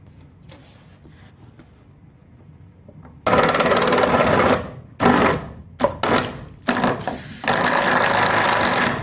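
A drill driving an 18-inch bit blind through a house wall from the other side, one floor up: a quiet stretch, then loud grinding bursts that start, stop and restart in uneven pulses, close by with no talk.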